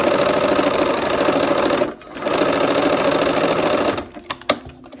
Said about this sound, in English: Okay, let's go sew